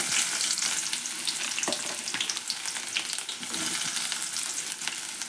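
Mustard seeds spluttering in hot oil with chopped onions frying, for a besan jhunka: dense crackling pops and sizzling, loud and close, with no talking.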